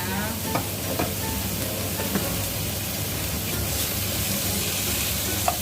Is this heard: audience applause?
no